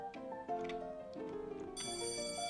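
A ringing bell signals break time inside a spooky school in a Roblox game, a bright electronic tone that carries faintly over quiet background game sounds.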